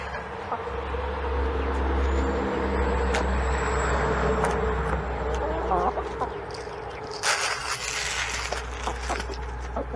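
Chickens clucking at moderate distance outdoors, short intermittent calls over a steady low engine-like rumble, with scattered clatter and brief bursts of noise.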